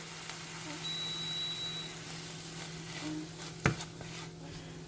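A spoon stirs meat, vegetables and ras el hanout in a pan with the heat off, producing soft scraping and faint residual sizzle, with one sharp clack of utensil on pan near the end.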